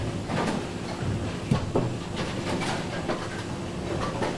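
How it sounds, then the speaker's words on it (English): A bowling ball rolls steadily down the lane at a televised bowling competition, a continuous low rumble with faint clattering transients and a few louder knocks, heard alone without talk. "you can just hear that ball when it's rolling down the lane, how many revolutions are on that ball"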